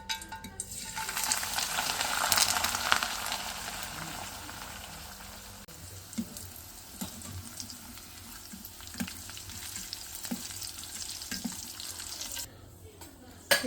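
Coriander and mint leaves fry steadily in hot oil, a loud continuous sizzle that is strongest early and then eases into a softer crackle with occasional stirring knocks, with no voice heard.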